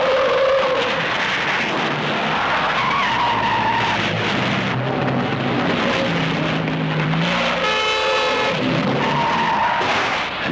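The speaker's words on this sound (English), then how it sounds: "he more than 100 films Remy Julien has made, he's done more stunts in Fiats than in any other car" A Fiat 124 family car driven in stunt maneuvers, tires skidding and squealing loudly and continuously with the engine revving underneath, a sustained harsh roar of rubber on pavement close by throughout.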